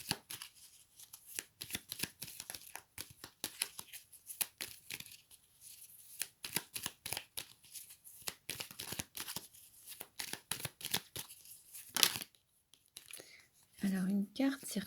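Tarot cards are shuffled and drawn by hand in quick papery riffles and soft slaps, arriving in close repeated bursts with short pauses, followed by a faint voice near the end.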